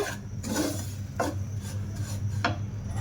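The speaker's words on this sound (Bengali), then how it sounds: "দিয়ে একটু ভালো করে নাড়াচাড়া করে নেব।" Semolina and coconut powder being stirred while frying in a pan, with rhythmic rasping scrapes of a spatula roughly every second, close and dry, with no voices.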